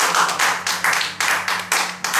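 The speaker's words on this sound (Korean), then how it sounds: "박수 한번" An audience claps together in a warm burst of applause at a Korean talk and poetry program, dense and fairly close, with rhythmic swells and no talking.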